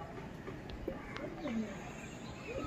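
Chatai pigeons, a breed in demand in Gujarat, coo softly from a pigeon loft, with low, rolling calls rising and falling at a moderate distance over faint background noise.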